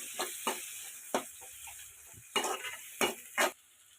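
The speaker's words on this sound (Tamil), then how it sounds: "இப்போ நம்ம பொடியாக நறுக்கி வச்சுருக்க வெங்காயத்தை சேர்த்துக்கிடுவோம்." Chopped onions sizzle steadily in oil while a utensil scrapes and clacks against the pan in irregular strokes; no one speaks.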